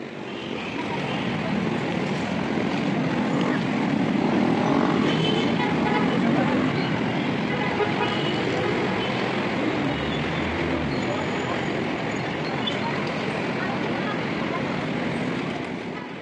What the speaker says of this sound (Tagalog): nood-nood lang ng mga sasakyan dito